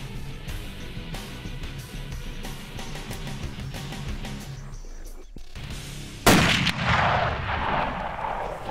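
A single sharp rifle shot booms out on a plains-game hunt among rocks in South Africa, loud and close, followed by a rolling echo, after a stretch of quiet outdoor rustling.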